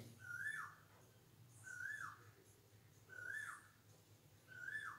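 An Asian koel calls nearby at dawn, four clear rising whistled notes repeated at a steady pace of about one every one and a half seconds over a quiet background.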